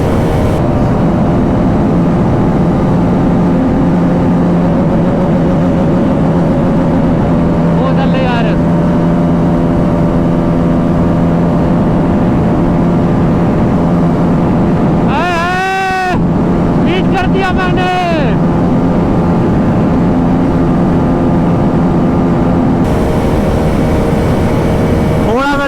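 A Bajaj RS200 motorcycle with a 36-tooth sprocket runs at top speed near its rev limiter in high gear. Its engine drone is loud, steady and sustained, with a brief rise and dip in pitch midway, like a gear change, over wind rush.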